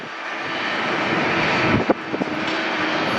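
Airbus airliner landing at Atlanta airport, a broad continuous roar of jet engines rising slightly, heard from a spotting position with a few faint bumps near the end.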